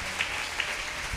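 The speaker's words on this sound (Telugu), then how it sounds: "చప్పట్లు కొడుతూ ప్రభుకి స్తోత్రం చెప్పండి గట్టి." A church congregation claps during a Sunday worship service, a short burst of brisk, fairly loud applause with no speech.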